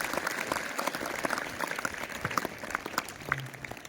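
An audience at a school Republic Day celebration claps steadily for a few seconds, dense, fairly close applause from many hands with no talking over it.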